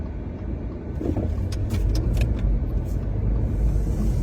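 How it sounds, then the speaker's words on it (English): Steady rumble of cars passing along a road while a truck waits to make a left turn, a continuous loud traffic drone with a hiss of tires, no voices. "There's 6 cars I have to wait for to make a left turn here"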